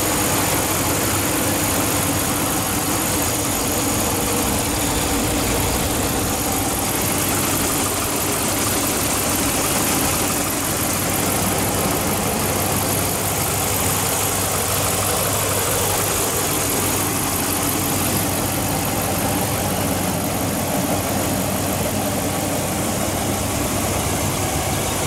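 A 2013 Ram 1500 pickup with a 5.7-liter Hemi V8 idles steadily, a continuous close engine drone with no talk over it.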